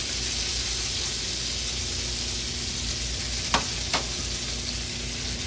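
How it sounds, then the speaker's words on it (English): Halibut fillets sear in a hot pan with a steady, dense sizzle and a few sharp sputtering pops near the end, close and continuous with no talking. "Put this nice halibut in here. And you can hear it already start to sputter."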